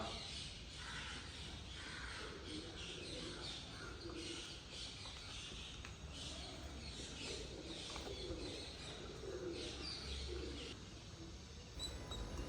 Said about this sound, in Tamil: இந்த பறவைகளோட சத்தத்தோட இந்த சிற்பங்களை நீங்களே அப்படியே பாருங்கள்.